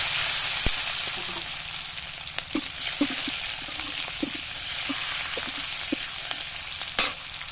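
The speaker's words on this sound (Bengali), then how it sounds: "তেলটা গরম হয়ে গেছে, গোটা জিরাটা আমি দিয়ে দিচ্ছি। এরপরে কাঁচা লঙ্কাটা দিয়ে দিচ্ছি, টমেটো কুচিটাও দিয়ে দিচ্ছি।" Whole cumin, green chili and chopped tomato frying in hot oil for a drumstick vegetable dish: a steady hiss of sizzling with scattered crackles and pops, plus a sharp utensil knock near the end.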